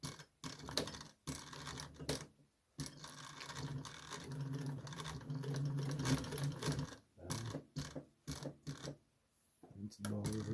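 A Consew 206 RB industrial walking-foot sewing machine stitches slowly through thick 6 mm material, its needle thumping in a steady mechanical rhythm that stops and starts, with someone talking over it.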